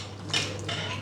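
A utensil scrapes and clinks against a bowl while crushed sweet plain biscuits are stirred together with melted butter. The sound is a short, close clatter over a low hum.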